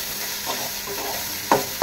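Flattened rice (chira) stirred in a pan of hot ghee with a little ginger, giving a soft steady sizzle with scraping stir strokes and two sharper clatters near the end, no voice present.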